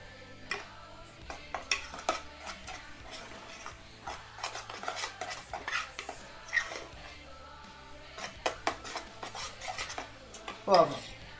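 A pumpkin dish is stirred in a cooking pot, the spoon scraping and clinking against the sides in irregular strokes, with one louder scrape near the end.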